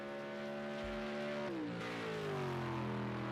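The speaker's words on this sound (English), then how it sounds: "As for John Dog, he comes across the control line now" Race car engines in an online Group C sim racing series at Road America hold a sustained drone, with pitch dropping as one car shifts and slows, close and steady with no talk.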